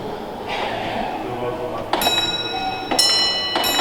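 Two sharp metallic bell strikes ring out about a second apart, with a lingering ringing tone over a low mechanical background hum.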